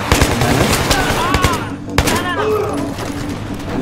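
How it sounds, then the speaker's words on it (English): Enemy gunfire aimed at a train in the video game Battlefield 3 sounds in loud, close bursts of rapid automatic shots mixed with single cracks, while someone talks over the shooting. "They are shooting from the side of the train."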